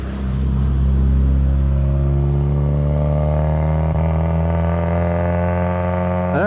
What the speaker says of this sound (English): And there's definitely traffic.